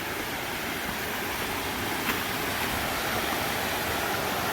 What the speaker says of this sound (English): coming up on Commer Creek Falls